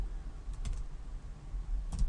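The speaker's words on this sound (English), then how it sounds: "I'm going to start typing an input tag" Soft, quick keystrokes tap on a computer keyboard in short clustered bursts against a quiet room background, with no talking.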